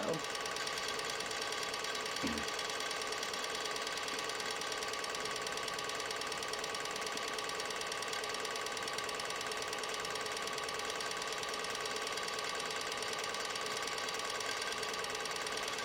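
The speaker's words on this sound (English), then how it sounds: "When you're winding a bobbin too, please unthread your machine." A Juki DNU-1541S industrial sewing machine winds a bobbin with a continuous, even mechanical whir and rattle that holds steady at a moderate level throughout, with a brief knock near the start.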